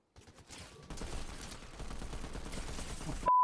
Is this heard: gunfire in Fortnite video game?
yes